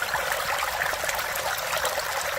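In winter, a stream flows steadily in a snowy arboretum, its constant bright trickling and babbling close and fairly loud, with no voices.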